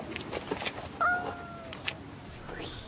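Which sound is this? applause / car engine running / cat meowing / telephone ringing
cat meowing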